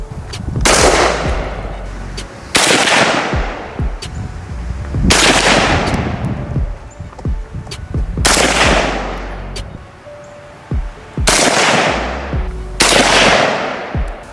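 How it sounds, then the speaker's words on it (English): Rifle fire from a New York State compliant rifle, six loud gunshots spaced about two seconds apart, each a sharp crack followed by a long echoing decay, with no talking. "So we're gonna test fire it right now"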